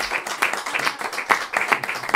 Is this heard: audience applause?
yes